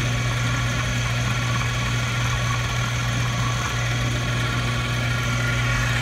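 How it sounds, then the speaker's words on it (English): A small Jet hobby lathe running, a steady, constant motor hum with a strong low drone and a whine, even and unbroken throughout, close by with no talking. "We have just a little jet kind of hobby lathe."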